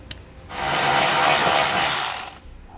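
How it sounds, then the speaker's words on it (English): An electric ratchet whirs continuously for about two seconds while backing out a bolt during installation of Air Lift LoadLifter 5000 air helper springs on a 2016 Chevrolet, loud and close after a brief click. "we can come back with an electric ratchet and take it out faster"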